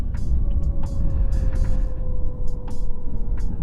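Harley-Davidson LiveWire electric motorcycle riding near full throttle: a thin, steady electric motor whine sits under loud, constant wind rumble, with occasional short gusts and knocks.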